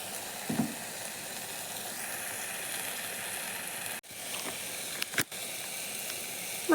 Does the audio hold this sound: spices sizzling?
yes